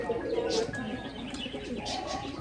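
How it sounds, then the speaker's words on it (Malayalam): Soft, low cooing of caged crossbreed pigeons repeats over a steady background murmur, with a few faint chirps mixed in. "ഇനം ക്രോസ് ബ്രീഡ് പ്രാവുകൾ."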